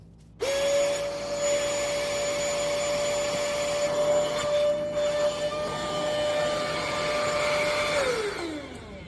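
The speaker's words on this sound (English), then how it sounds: "it helps while it's deflating and it's sucking that air out" Built-in electric pump of a KNZZO queen air mattress running steadily to deflate it, a loud close motor whine with a sustained tone starting abruptly and winding down at the end, no talking.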